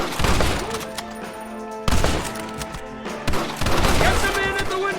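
Gunfire in Red Dead Redemption during a shootout, rapid cracking shots with sharp bursts striking at intervals over a busy, echoing battle din, with shouting voices mixed in.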